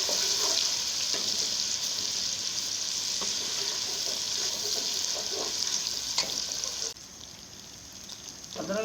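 Ginger garlic paste frying in a pan, a steady close sizzle with occasional crackles and stirring scrapes, easing slightly near the end.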